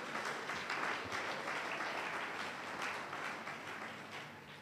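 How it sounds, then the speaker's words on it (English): A church congregation at a Sunday morning service claps their hands together in a steady, dense patter that is faint and distant, with no talk over it. "Clap your two hands for Jesus."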